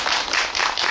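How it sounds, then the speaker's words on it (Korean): A film screening audience claps in a brief burst, a dense wash of hands lasting about a second. "큰 박수 부탁드리겠습니다."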